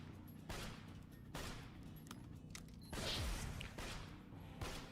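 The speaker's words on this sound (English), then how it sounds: "why is the better half making a beat when the gun is shooting for full mag?" Video game gun emptying a full magazine in slow, spaced bursts, each shot a loud broadband crack with a rumbling tail, several bursts in a rough rhythm with brief gaps between.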